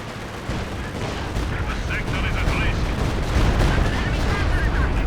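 A Walking Stuka rocket barrage in the Company of Heroes 2 video game, a dense, continuous roar of rumbling explosions that swells louder toward the end, with no pauses between blasts.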